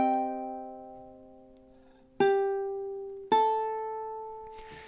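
Up close, a ukulele picks a short melodic passage from a song, a held ringing note followed by two clean plucks roughly a second apart, each fading gently, played alone without any voice.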